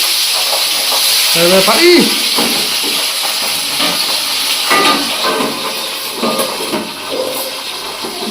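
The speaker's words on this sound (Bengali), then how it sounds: "পাবদা মাছ কড়াইতে দেওয়ার আগেই ফাটা শুরু করে দেয়।" Pabda fish fry in hot mustard oil in a pan, a loud steady sizzle with sharp pops and spatters throughout, and a voice speaks briefly over it.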